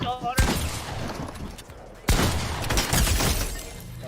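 Assault rifle fire in Fortnite comes as two sharp, loud bursts of shots with crackling debris between them, close and dominant.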